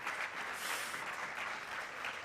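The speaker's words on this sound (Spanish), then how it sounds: "Es un fuerte aplauso para esta moza" Brief burst of clapping from a small audience at a carnival gala in a venue in Mieres, Asturias, welcoming a young woman guest; steady and fairly soft throughout.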